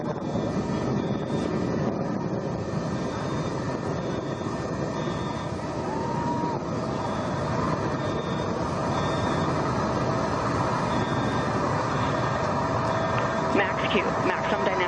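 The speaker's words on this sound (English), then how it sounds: "You see the BE3 engines is firing beautifully." Blue Origin BE-3 rocket engines firing during a launch, a steady, broad roar that holds at a constant level throughout, with faint tonal whines riding above it.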